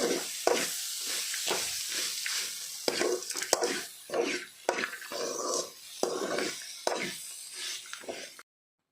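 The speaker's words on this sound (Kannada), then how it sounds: "ಸ್ವಲ್ಪ ಅರಸಿನ ಹಾಕ್ಕೊಳ್ತೇನೆ ಸ್ವಲ್ಪ ಹೊತ್ತು ಫ್ರೈ ಮಾಡಬೇಕು" Turmeric frying in oil in a pan for raw mango chitranna, a soft sizzle punctuated by repeated rhythmic scraping strokes of a spatula, close and fairly quiet, ending abruptly.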